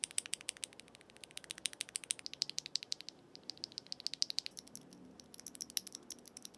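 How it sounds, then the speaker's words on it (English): Brisk typing on Epomaker magnetic-switch keyboards, a rapid run of crisp clacking keystrokes with a short pause partway through, close up and fairly quiet. "Here's a little sound test of all the switches."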